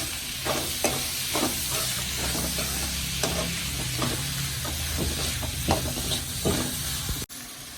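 Two chopped tomatoes sautéing in a pan for rajma dal curry, a steady close sizzle with repeated stirring scrapes at an irregular rhythm, no talk, cutting off abruptly near the end.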